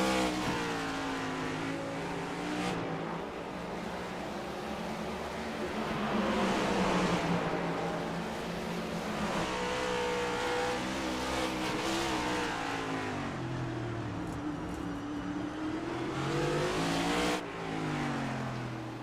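Stock race cars roar side by side around the Chicago street course, engines revving and whining loudly through gear changes in a continuous dense pack, with no voices over the noise.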